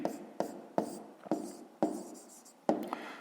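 Someone writes numbers by hand during a fifth-grade maths lesson, with about seven distinct scratchy strokes at an uneven pace, close and clear and without speech.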